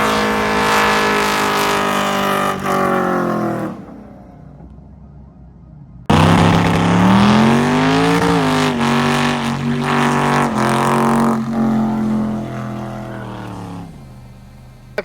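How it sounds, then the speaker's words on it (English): Street cars rolling through on a Michigan road doing trailer burnouts, loud engines roaring and revving close by, with a brief drop to near quiet before another car bursts in with sustained high revs and wavering engine tones. "some guys roll through, see if we can get some trailer burnouts"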